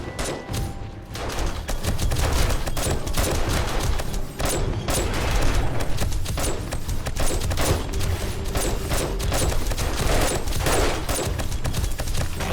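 Gunfire from a sniper rifle in a video game during a base defense, a dense, loud barrage of rapid cracking shots and booms that continues almost without pause.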